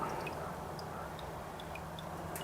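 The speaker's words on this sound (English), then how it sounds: "We'll let her drip drain here for a minute" Engine oil drips from the drain plug of a Suzuki Boulevard C50T motorcycle into a pan, faint separate plinks every half second or so over a constant low background hum, with no talk.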